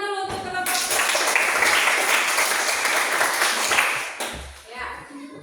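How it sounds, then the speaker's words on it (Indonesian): A classroom group receives a burst of lively applause from many hands that lasts about three and a half seconds, with a brief voice speaking before and after the clapping. "kasih tepuk tangan dulu untuk kelompok."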